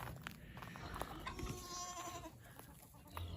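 On a cold homestead morning, goat kids and lambs give a single soft bleat in the middle, faint against quiet outdoor background noise.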